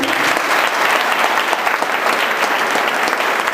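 A crowd claps steadily and enthusiastically, a dense, even wash of applause lasting a few seconds.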